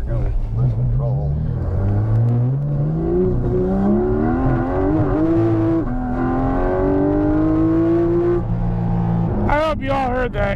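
Porsche Cayman GT4 RS engine accelerating hard through the gears, a loud rising harmonic wail that climbs steadily in pitch for several seconds, then a brief burst of rasping revs near the end, close and continuous.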